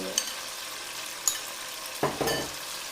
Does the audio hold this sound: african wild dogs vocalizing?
no